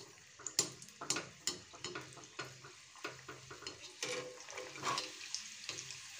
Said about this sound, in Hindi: तो अभी हम लोग इसमें गुजिया डालते हैं और उसको डीप फ्राई करके लेते हैं।